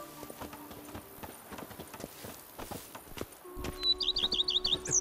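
Horse hooves clip-clop in a steady, close rhythm in The Witcher 3: Wild Hunt's Blood and Wine expansion, with faint ambient tones, a few birds chirping and louder hoofbeats toward the end.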